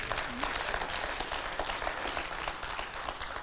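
A church congregation claps steadily in a dense, even burst of applause, moderately distant and without talk.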